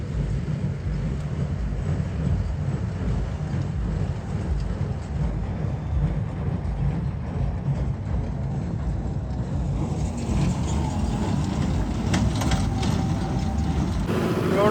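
A farm baler machine runs steadily throughout, a loud continuous low mechanical rumble with no talk, shifting slightly in tone near the end.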